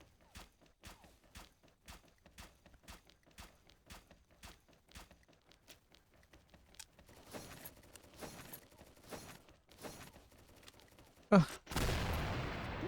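Gunfire in the video game XSHOT: a steady series of sharp single shots at a regular rhythm, then a denser, more irregular stretch of firing, ending in a loud burst followed by a harsh rush of noise.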